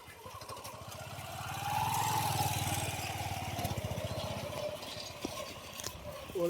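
A motorcycle rides past on a narrow route in Tamil Nadu, its mid-pitched engine building to a close, steady drone before easing away.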